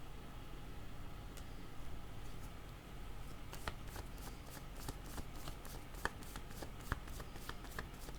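Tarot cards riffled and shuffled before a card draw: a steady papery flutter with repeated light snaps and flicks, close and continuous under a constant low background hum, no talking.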